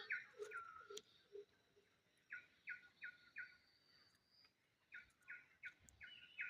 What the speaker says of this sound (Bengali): সকালবেলা শুধু শোনা যায় পাখিদের সুন্দর সুন্দর ডাক